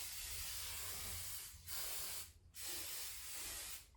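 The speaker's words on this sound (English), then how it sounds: "a little bit of hairspray" Hairspray mists onto hair in three loud, close bursts of hissing spray, separated by two brief pauses.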